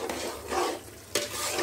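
Masala with yogurt frying on high flame in a pressure cooker while being stirred, giving soft sizzling with scraping spoon strokes in a short, close burst.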